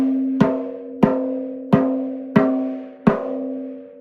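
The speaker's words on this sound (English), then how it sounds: "You can tell when I tap by each lug, they have about the same pitch." Five taps near each lug of a tuned drum head ring at matching pitch, each a crisp strike followed by a sustained, even tone, spaced about half a second apart and heard up close without talk.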